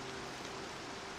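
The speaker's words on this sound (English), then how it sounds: "Well, because it's raining." Steady rain hisses in a video game, Horizon Zero Dawn, a soft even wash of falling water with no breaks across the short stretch.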